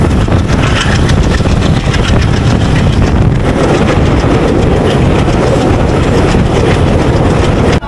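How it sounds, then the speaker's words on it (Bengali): Aboard a Jessore to Mongla passenger train, a loud, constant rumble of wheels and engine fills the space, with a faint rhythmic clatter underneath and no voices. "আমাদের ট্রেনটি এখন যশোর স্টেশনে আছে"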